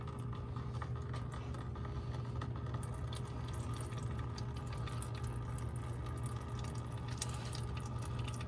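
Motor oil drains from a 2002-2009 GMC Envoy during an oil change, a faint, continuous trickling pour under steady background hum, with no talking.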